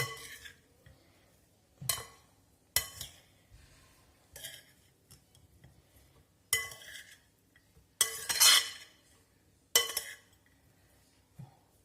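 A metal spoon clinks sharply against a bowl in repeated bursts while a mayonnaise summer salad is stirred, with quieter scraping between the clinks.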